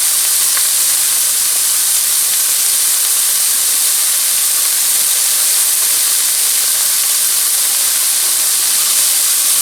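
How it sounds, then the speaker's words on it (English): Onions sizzle in olive oil in a pan, a constant loud frying hiss that stays close and even throughout, with no voices. "I'm going to add a little bit more olive oil and put some onions in"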